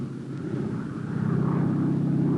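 Propeller tow planes taxiing at full throttle ahead of ton-and-a-half gliders, a loud steady engine drone and airscrew roar that swells slightly in volume, with no voices.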